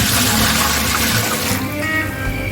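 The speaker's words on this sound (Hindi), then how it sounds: "अब चावलों के हिसाब से मैं इसमें पानी डाल रहा हूँ।" Water pouring into a large pot of chicken degi biryani being prepared with 15 kg of rice, a loud steady rushing splash that runs continuously and eases slightly toward the end.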